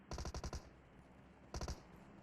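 Two short bursts of automatic gunfire from the video game PUBG Mobile: about six quick shots, a pause of nearly a second, then about four more. The shots sound crisp but fairly quiet against a soft background.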